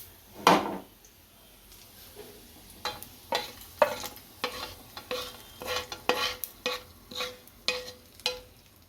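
Hot tempering poured into yogurt for dahi bread, giving a sharp burst of sizzle at the start, then a run of short clinks and stirring knocks that continue intermittently at close range.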